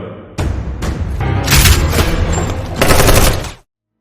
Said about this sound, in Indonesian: Terjadi baku tembak di dalam sana, di mana Faust yang masih mengikuti Ethan